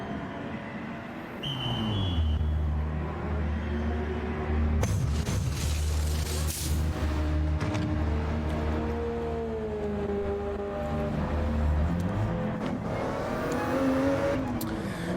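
Race car engines roar steadily in Gran Turismo 7 during the Bathurst 12 Hour, with sustained loud revving and gear-change pitch sweeps as cars race close together around the track.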